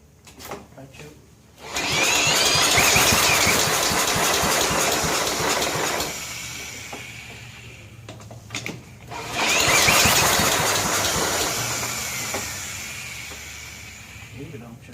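A John Deere STX38 lawn tractor engine, which is backfiring and won't run, cranks in two long whirring bursts of several seconds each, separated by a pause, with brief talk between attempts.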